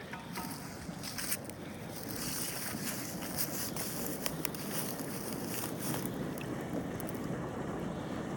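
Steady rushing, gurgling pond water sucked into an overflow pipe, flowing continuously, a constant close wash of turbulent noise with no voices.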